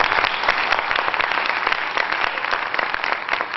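An audience at a meditation music event gives the performers a welcoming round of applause, dense sustained clapping that holds steady without any voices.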